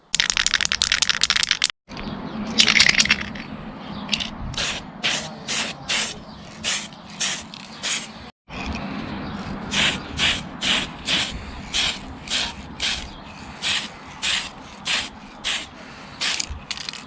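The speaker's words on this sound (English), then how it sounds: "lay a nice thin coat of paint, just like a dust coat" A spray can hisses a first thin coat of paint onto an RC car body shell, an HPI Alfa 916 GTV, starting in long bursts and turning into a run of short, even puffs with brief gaps between them.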